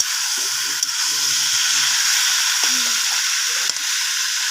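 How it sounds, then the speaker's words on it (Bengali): Meat sautéing in a pan gives a steady, close sizzle with hiss throughout, broken by a few soft stirring knocks and quiet bits of voice in the background. "এই যে মাংস কষাচ্ছি।"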